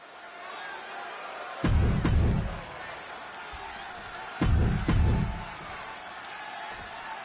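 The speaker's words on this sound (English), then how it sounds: "just listen to this crowd here in Chicago." Crowd roar in the WWE 2K26 wrestling video game at a Chicago arena event: two loud swells of cheering rise over a steady ambient arena murmur, each lasting about a second.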